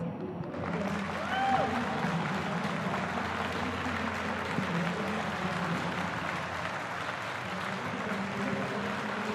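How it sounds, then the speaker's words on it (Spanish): Steady applause from a conference audience fills the room, sustained and even throughout, a dense clatter of many hands clapping at moderate distance. "Por favor, otro fuerte aplauso para Cristina."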